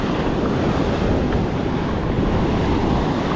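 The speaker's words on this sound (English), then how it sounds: "and sea conditions getting rougher." Rough sea surf and gusting wind at the shore during a low incoming tide in poor visibility, a steady loud wash of breaking waves with wind buffeting the microphone throughout, no voices.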